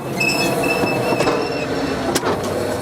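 A 4.5-ton Coalbrookdale steam locomotive spins its wheels on damp rails, giving a loud, close, grinding rumble with thin sustained squeals and a sharp hiss near the end.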